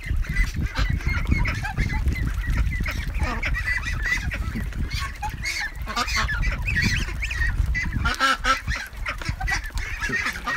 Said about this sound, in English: Look at them, right? Little ducks in water.